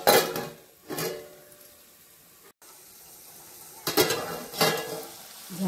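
Capsicum coated in gram flour sizzles in a pan as it is stirred, with a few loud bursts of scraping and frying at the start and again near the end, and quieter sizzling between them.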